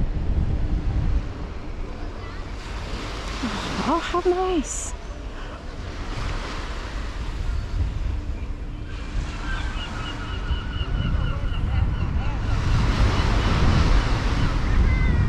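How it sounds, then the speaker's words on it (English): Surf breaking on the beach at Peel, Isle of Man, a steady wash of waves rolling in under gusty wind noise on the microphone, with a brief spoken remark and a passing vehicle mid-way. "I can hear the waves crashing."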